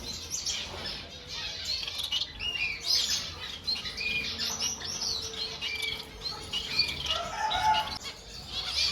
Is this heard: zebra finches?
yes